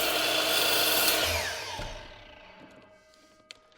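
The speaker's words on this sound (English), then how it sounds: "I'm going to go ahead and cut a piece of this off so you can see how tiny this is." A power saw whirs through a tiny 1/8 by 1/2 inch wood molding held in a cutting jig, loud at first, then spinning down into quiet with a faint click at the end.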